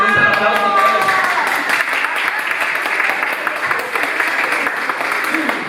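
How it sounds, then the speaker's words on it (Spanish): A church congregation at a Spanish-language service breaks into loud, sustained applause, a dense roomful of clapping hands that holds steady throughout with little variation. "A ver, dense un aplauso"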